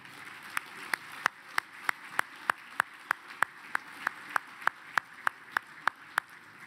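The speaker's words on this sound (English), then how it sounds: "Congratulations, big round of applause," Applause for an Indigenous business award winner at an awards ceremony, heard as sharp evenly spaced claps in a steady rhythm, about three per second, fairly faint and clear with no talk over them.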